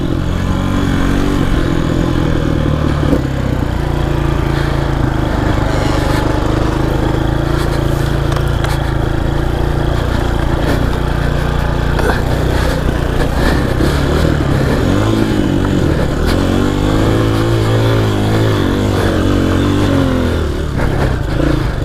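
Dirt bike climbing a trail in first gear, its engine droning loud and close throughout, rising and falling in pitch as the throttle works, with no talking.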